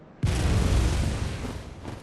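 A cannon enemy in the Bloodborne game's Forbidden Forest fires a single loud, booming blast that cuts in suddenly and rumbles out over two seconds.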